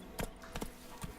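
Horse hooves clip-clopping in a video game, a few distinct hoofbeats spaced unevenly over a steady low background, close and moderately loud with no talking.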